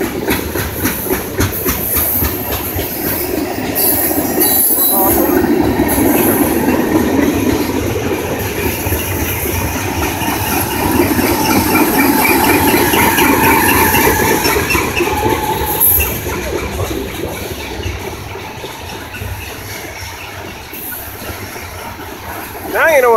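A CSX freight train of loaded box cars rolls past behind GE locomotives in Clinton, South Carolina, a loud, sustained rumble of wheels with clicking rail joints and occasional squeals, steady and close throughout.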